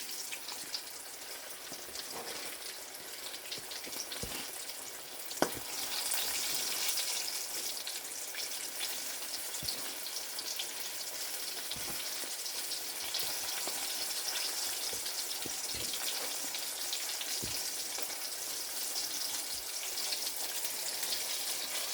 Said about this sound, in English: you see how you have that bubbling as soon as, and that sizzle right when I put it in?